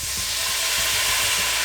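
Dry wine sizzles and hisses loudly in a pan of caramelized onions, a steady bright frying sound with faint stirring underneath and no talk.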